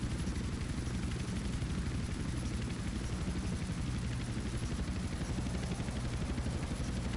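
Helicopter flying in the video game GTA San Andreas, a loud, dense, continuous rotor and engine drone with rapid rhythmic chopping, steady and close throughout with no talk.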